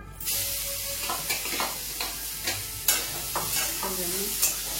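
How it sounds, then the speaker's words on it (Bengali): Leftover fried yardlong beans reheated in a home kitchen pan, with a continuous close sizzle and repeated scraping stirs, and no talking. "এখন এই বরবটি ভাজাটা গরম করি।"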